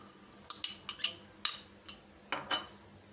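Chana chaat ingredients are being mixed with a metal spoon in a bowl, giving about nine sharp clinks and scrapes in an uneven rhythm with no talking.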